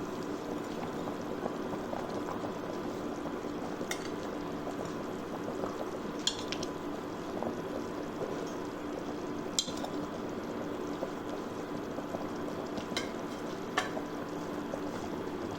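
Rohu fish curry with cauliflower and potato simmers steadily in an uncovered pot, a soft continuous bubbling with a few faint clicks and taps as pieces of fried fish go in.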